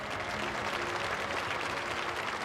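A jubilant crowd in 1981 cheers and applauds steadily for the Pope as he appears on his balcony to bless them, a dense, continuous roar of clapping and voices with no pauses.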